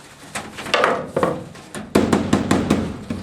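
A hammer taps wire mesh laid on a flat surface to bend a sharp edge while building a crayfish trap: a series of about eight distinct metallic knocks, grouped early then evenly spaced later, close and moderately loud with no talk.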